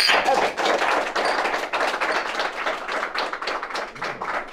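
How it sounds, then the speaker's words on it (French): Applause for two quiz winners on a French science show: a small audience claps in quick, uneven bursts, close and lively, tapering slightly toward the end. "On peut les applaudir"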